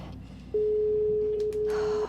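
A single long telephone ringback tone sounds steadily for about a second and a half during an unanswered call, loud and alone with faint background noise, briefly dipping once.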